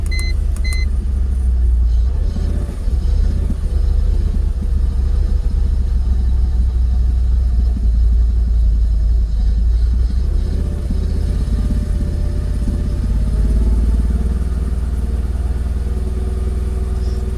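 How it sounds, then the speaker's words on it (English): Close, loud, continuous low rumble of a Jaguar XKR engine with erratic, hunting revs as it struggles not to stall, a few faint clicks at the start and slight rises in pitch midway. "it's going to be tricky with the engine revs being so erratic"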